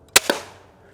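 A Steambow B08 crossbow drawn to 150 lbs releases a shot: a sharp, loud snap followed a moment later by a second impact-like crack, then a quick decay, with no talking.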